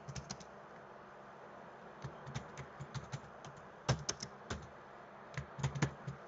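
Typing on a computer keyboard to enter a short description, with irregular bursts of crisp key clicks, some quick runs and pauses, fairly close and alone without talk.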